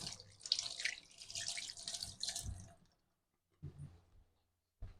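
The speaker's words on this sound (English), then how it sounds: "I'm gonna wash my hands" Tap water runs steadily into a kitchen sink during handwashing for about three seconds, then stops, followed by a couple of short splashes and drips, fairly quiet and close.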